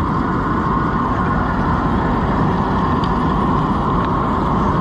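An old Oliver 7300 combine harvester out in a field after more than ten years unused, its engine a constant loud rumbling drone with no variation as it drives along, no talking.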